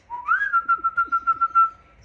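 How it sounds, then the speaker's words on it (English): A scaly-breasted lorikeet gives a single close call, a clear rising note that settles into a rapid, trilling warble lasting about a second and a half, alone and fairly loud. "It's a scaly-breasted lorikeet."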